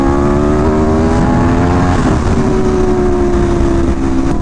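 An Aprilia RSV4 1100 Factory motorcycle revs its V4 engine close to the listener. The engine holds a loud, steady, deep rumble with strong harmonic tones and a slight dip in pitch midway. No one talks.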